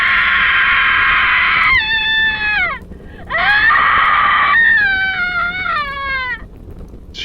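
A woman's scream for a horror story, long, shrill wails that waver and break into descending sobbing cries, loud and alone, with a short gasp between two bursts.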